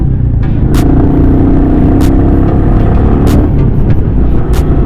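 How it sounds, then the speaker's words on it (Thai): Royal Enfield Meteor 350 single-cylinder motorcycle engine underway, a loud steady low rumble with road and wind noise throughout and a few brief sharp clicks, no talking. "ขี่ในเมืองได้สบายๆนะ กับเครื่องยนต์แค่ 350 ซีซี นะครับ"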